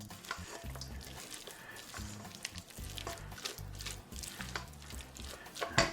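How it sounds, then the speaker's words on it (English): Hickory smoked chicken salad is stirred in a bowl with a spoon, giving soft, wet, squelching scrapes in an irregular rhythm, close but quiet. "now let me go ahead and get that stirred up for you"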